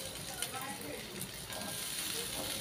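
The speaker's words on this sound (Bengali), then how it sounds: "এবার আলুটা দিয়ে আমি একটু 2 মিনিট মতন এটা আবার একটু ভেজে নেব" Potatoes and onion fry in a pan, giving a soft, steady sizzle and hiss with occasional faint stirring clicks. The level is low, and no one talks.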